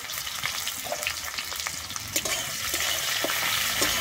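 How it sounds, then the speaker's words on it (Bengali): Onions sizzle steadily in hot oil in a pan with whole cumin seeds, a dense crackling hiss broken by light scraping stirs, close and alone with no voices. "আমি পেঁয়াজটাকে কিন্তু লাল করে ভেজে নেব"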